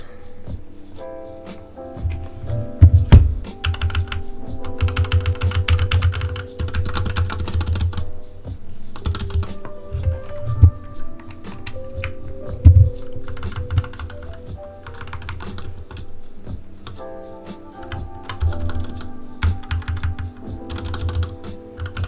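Steady, rapid clacking of a computer keyboard just plugged back in, with dense bursts of keystrokes and occasional heavier thuds over about twenty seconds, close and fairly loud, with a low hum beneath.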